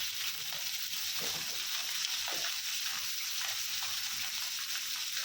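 Small puti fish fry in hot oil in a wok, giving a steady, crackling sizzle with occasional sharper pops, close and fairly quiet.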